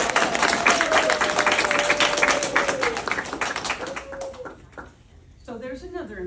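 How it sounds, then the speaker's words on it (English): Applause breaks out at a spelling-bee-style keynote event, a crowd clapping steadily with a whistle-like tone running through it, then thinning and fading out before a voice resumes. "So I want to give a round of applause."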